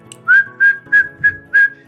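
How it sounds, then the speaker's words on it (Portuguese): A person whistles five short, bright rising notes in a steady rhythm to call a pet cat indoors, each note clear and close, with a faint low hum underneath. "sempre que eu assobio dessa forma, ela sabe que eu vou dar uma coisa muito gostosa"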